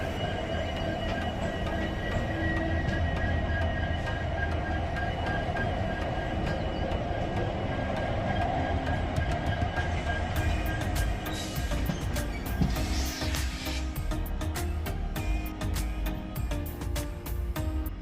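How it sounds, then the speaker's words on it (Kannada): Goa Express train rolling into Kulem railway station, heard from on board: steady loud rumble of wheels and carriage noise throughout, with clicks and brief squeals toward the end as it slows. "ಸೊ ಇವಾಗ ನಾವು ಕೂಲಂ ರೈಲ್ವೆ ಸ್ಟೇಷನ್ ಈಗ ಎಂಟರ್ ಆಗ್ತಿದೀವಿ."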